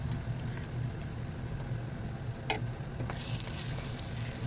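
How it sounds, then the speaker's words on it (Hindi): Tomatoes dropped into a pan of frying onions for a Pakistani aloo karela dish give off a steady, moderate sizzle with a low hum beneath it and a brief sharper burst partway through. "ये हम टमाटर डाल रहे हैं इसमें भी।"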